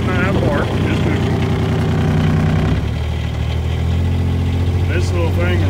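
A 2022 Club Car Carryall 1500 diesel 4x4 utility vehicle idles steadily nearby, its engine a continuous loud rumble throughout while someone talks over it.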